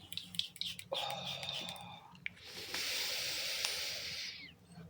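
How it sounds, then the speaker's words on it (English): Perfume oil mist sprayed around a person, a steady broad hiss of roughly two seconds following fainter breathy sounds, close and moderately loud. "If I spray it around me now,"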